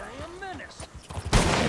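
Red Dead Redemption 2 gunfire: after a stretch of talking, one loud, sharp shot bursts out near the end and rings on briefly.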